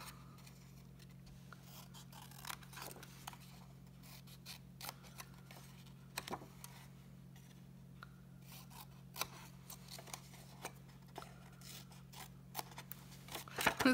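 Scissors snip through ribbon at an angle while a Halloween treat bag is being finished: faint, scattered cutting clicks and rubs over a steady low hum, with no talking.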